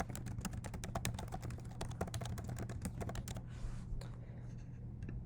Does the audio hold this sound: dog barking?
no